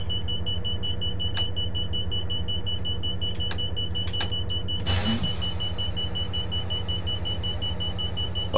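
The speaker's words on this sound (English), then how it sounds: "Got a general alarm going off." A general alarm tone drones steadily in a Class 57 Freightliner locomotive cab in Train Simulator 2015, running over the low engine hum, with scattered clicks and a short burst of hiss about midway.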